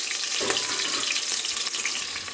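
Onion and tomato fry in hot oil meant for chicken, a dense continuous crackling sizzle with a few faint stirring touches, close and fairly loud, with no one talking.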